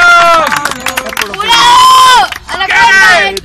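Crowd at a freestyle rap battle applauding and cheering loudly in bursts, close and dense, with shouted voices mixed in.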